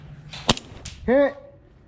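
Outdoor airsoft game with a single sharp, snappy gunshot close by, a fainter crack after it, then a short shout.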